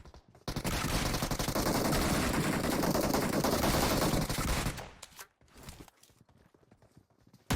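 Dense automatic gunfire in PUBG Mobile, a loud sustained burst of rapid shots that runs for several seconds and then breaks off into a few scattered quieter shots and rustling.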